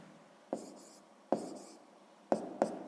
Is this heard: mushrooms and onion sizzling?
no